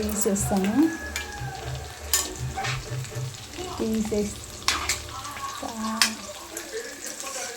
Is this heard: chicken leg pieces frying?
yes